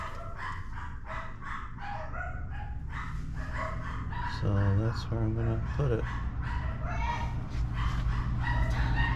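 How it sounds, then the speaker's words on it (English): Dogs bark excitedly indoors, heard as several muffled, fairly distant barks partway through, while someone talks close by over steady outdoor background noise during a brake job on a 2008 Acura MDX. "Dogs are going nuts inside."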